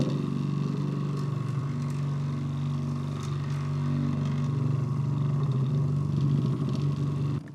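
An Evolution electric wacker plate compactor works ground for a garden path, a continuous loud, close rumbling drone with a slight rise partway through, running steadily without voices.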